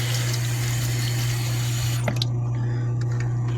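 Tap water runs steadily into a balloon, a continuous rushing flow that suddenly thins and quiets partway through, leaving faint trickling and drips.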